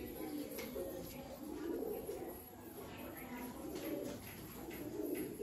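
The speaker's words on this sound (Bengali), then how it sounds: "এটাও মাদি পায়রা আছে" Female pigeon, a Madrasi, Rampuri or Malwai adult bird, cooing in low, soft repeated rolls over a steady background hum, with faint room noise around it.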